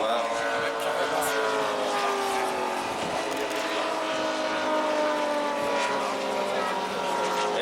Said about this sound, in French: Et c'est justement le P-47.